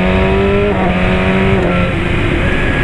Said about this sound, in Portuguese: Acelera, Mike, velho, acelera!